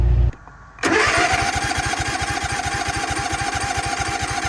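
A petrol lawnmower engine, just refuelled after running dry, catches after a brief quiet pause and settles into a loud, steady, close-up chugging idle with a fast regular pulse.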